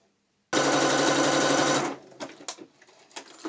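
A sewing machine stitches down a slippery bikini liner on a half-lined thong bikini, one loud steady run of fast stitching lasting over a second, then stopping and leaving quieter handling noises.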